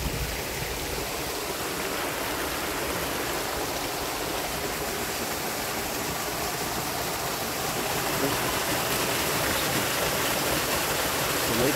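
A river crosses a rural road walk, water running steadily over rocks in a continuous, full rushing wash that stays even throughout, heard alone without voices.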